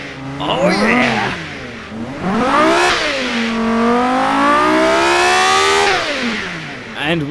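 A car engine with 40 valves revs up and down in long sweeping pitches in BeamNG, roaring loudly with exhaust rumble, the tone rising and falling several times.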